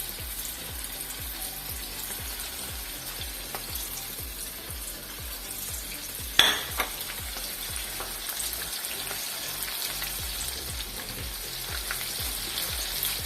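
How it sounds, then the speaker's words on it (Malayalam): Prawns deep-frying in very hot oil, a steady dense sizzle and crackle running throughout, close and loud, with one sharp clatter midway and no talking. "ഇനി നമുക്ക് ഇത് എണ്ണയിലിട്ട് വറുത്തെടുക്കാം."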